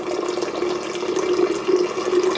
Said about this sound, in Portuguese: Tá vendo? Sai bastante água.